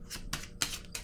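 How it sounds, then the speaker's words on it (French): A tarot card is set down on a table in three soft, papery slaps spaced about a third of a second apart, close and quiet with no talking. "Je vais déposer une autre carte ici"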